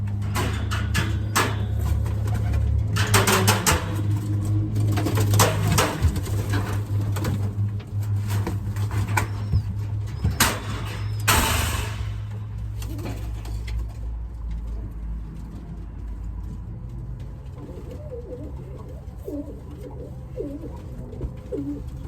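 Pigeons coo continuously in low, throaty rolls, with occasional wing flutters and a rustle of a cock bird being handled close by.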